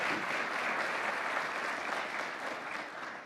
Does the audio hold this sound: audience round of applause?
yes